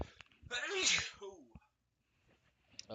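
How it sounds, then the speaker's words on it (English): A single sharp sneeze close to the microphone, followed by a brief pause and faint movement. "gotta sneeze."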